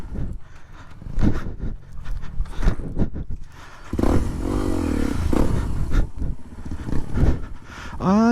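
A motorcycle struggles up a rocky mountain trail, its engine revving and straining in uneven surges while the rider talks over it and tires scrape on stones.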